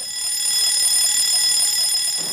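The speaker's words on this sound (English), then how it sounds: "The general alarm might sound." A general alarm sounds continuously, a loud steady high-pitched ringing tone that fills the whole moment without a break, alone with no talk.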